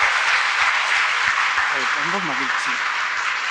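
Audience applause at a Tamil stage debate (pattimandram), a dense, steady clatter of clapping across the whole stretch, with a short spoken phrase over it.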